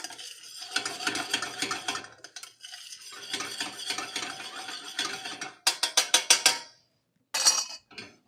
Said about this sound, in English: We're gonna stir this up really well,